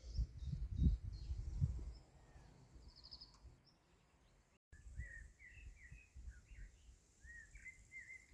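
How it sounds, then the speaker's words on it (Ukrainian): Birds chirp in short, high bursts, fairly faint, over a quiet outdoor background with low rumbling noise early on. "Пташки співають"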